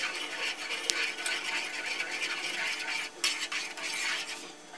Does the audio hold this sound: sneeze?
no